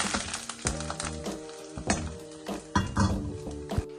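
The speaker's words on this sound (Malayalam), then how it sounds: "കഞ്ഞിയുടെ അകത്തോട്ട് താളിച്ചത്, നെയ്യിൽ താളിച്ചത് ഇട്ട് കൊടുത്തിട്ടുണ്ട്." Ghee tempering with fried onion and curry leaves poured into rice gruel for jeeraka kanji, giving a close sizzle with repeated clinks and scrapes of a spoon against a pan, no talking.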